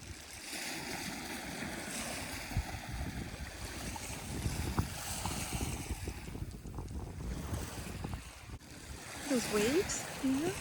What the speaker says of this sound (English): Those waves, yeah.